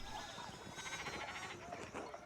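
Sheep bleat in the video game Pentiment, a few wavering cries rising over a busy backdrop of game ambience, with a voice speaking underneath.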